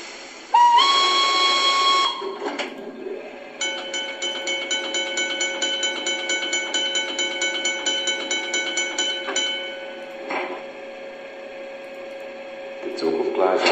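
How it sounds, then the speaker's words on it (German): LGB RhB Krokodil Ge 6/6 I model locomotive fitted with a digital sound decoder, giving a sustained tonal whine with a rapid rhythmic clatter and short whistle-like tones, close and fairly loud. "Fahrgeräusch."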